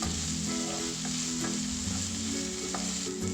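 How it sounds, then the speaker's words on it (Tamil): Sliced onions with a little salt sauté in a pan for veg chow mein, giving a constant close sizzle and frying hiss with occasional scraping stirs. "வெங்காயம் ஓரளவுக்கு வதங்கிடுச்சு."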